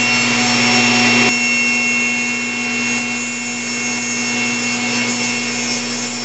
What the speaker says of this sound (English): now I'm going to use this crosscut sled which is very precise to square up